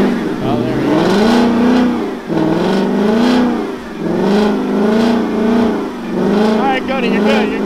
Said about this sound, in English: he's gonna do a practice burnout real quick before we head on the strip